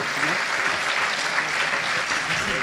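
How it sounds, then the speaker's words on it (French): A packed festival crowd claps continuously after a startup competition finale, a thick even wash of hand claps with faint voices and music low beneath. "Bravo, allez, on l'applaudit"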